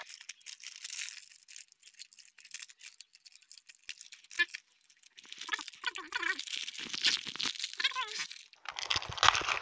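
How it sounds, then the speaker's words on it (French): Plastic packaging around augmented reality cards for a New Nintendo 2DS XL crinkles and tears up close in scattered bursts, with someone talking between the rustles. "Bon, on va les déballer maintenant, hein."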